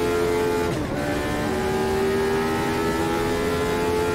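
A Lotus 79 race car's engine in the Automobilista 2 racing game, a loud sustained tonal drone with a brief dip in pitch as it shifts gear, then holding steady.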